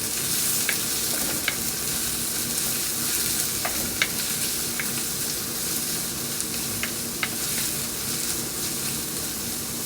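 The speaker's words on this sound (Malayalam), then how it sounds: "നന്നായിട്ട് ഇളക്കി കൊടുക്കാം." Sliced onions frying and sizzling in a pan for a vegetable kurma, with a steady crackling hiss and several sharp clicks of a spoon stirring against the pan. No speech.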